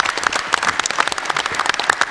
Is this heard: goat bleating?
no